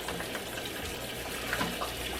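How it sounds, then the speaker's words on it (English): Cold water pours steadily into a container, a continuous broadband splashing rush that stays close and even throughout, with no talking over it. "Now we're filling this with cold water, and I'm adding ice packs."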